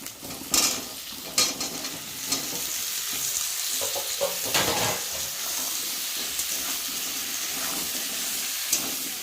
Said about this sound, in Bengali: এখন আমি আলুগুলোকে দিয়ে ভালো করে আলুটা ভেজে নেব পেঁয়াজের সাথে